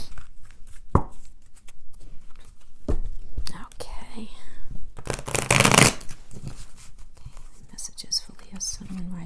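Tarot cards are shuffled by hand in a steady run of papery riffles and slides, with soft bursts and a louder flurry partway through, close to the microphone and mostly without talk.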